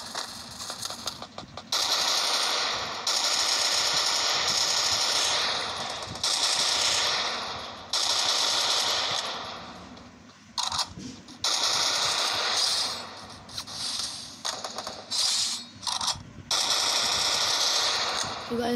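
Gunfire in a Free Fire shooting game, long bursts of rapid automatic fire broken by short pauses, loud and dense throughout, with a player talking over parts of it.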